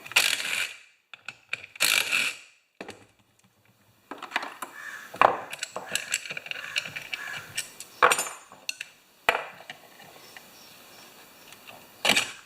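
Thread-forming bolts being removed from a 30-inch YardWorks snowblower, heard as a series of sharp metallic clinks, taps and rattles from tools and parts, close and irregular with quiet pauses between.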